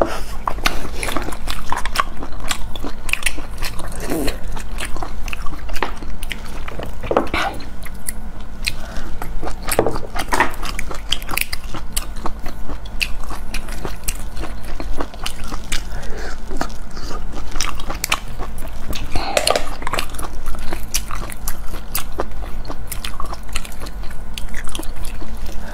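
Close, loud eating of seafood, oyster noodles with vegetables and clams, with steady wet chewing, slurping and crunchy bites continuing without pause, and no talking.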